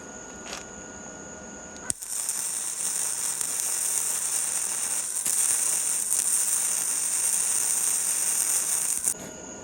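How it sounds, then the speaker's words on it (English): A Sefaspe MIG 150Pro welder tack welds rebar onto a shovel, giving a steady, close, crackling electric buzz that starts abruptly after a quiet moment and runs for about seven seconds before cutting off. "we did a quick tack weld"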